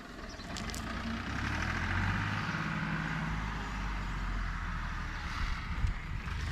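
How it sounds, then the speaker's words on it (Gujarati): A tractor engine runs on a rural road beside a neem tree's shade, a steady loud low rumble throughout with no break. "ક્યાં ટ્રેક્ટર હાલે"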